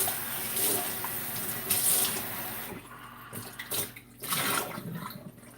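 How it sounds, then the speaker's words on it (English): Tap water runs into a sink while a small pot with food residue on it is rinsed out, a steady close splashing that shifts and sputters as the pot is moved under the stream. "I'm just going to rinse the pot out."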